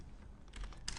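Keys clatter on a computer keyboard during an After Effects editing session: a short, quiet run of soft clicks, the last keystroke a little sharper.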